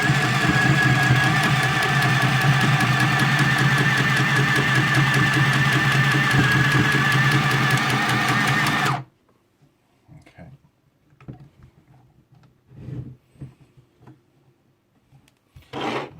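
A Hobbycraft mini sewing machine runs at full speed for about nine seconds with a loud, steady mechanical whir, then stops and is followed by faint handling clicks and rustles.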